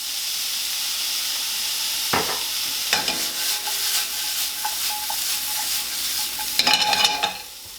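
Soy sauce hits a hot stir-fry pan and sets off a steady hissing sizzle, with a few sharp clacks of a utensil scraping and tossing food against the pan.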